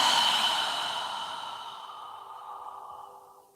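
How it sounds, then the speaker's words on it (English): A long, slow exhale through the mouth during a yoga breathing exercise, a soft breathy rush close to the listener that fades steadily away, with no talking. "exhale through your mouth. As you're exhaling, imagine you're fogging a mirror with your breath"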